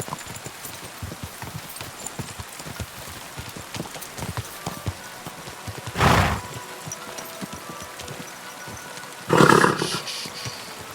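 A horse in the video game Kingdom Come: Deliverance 2 clip-clops steadily on its own, with two louder, noisy bursts standing out near the middle and end.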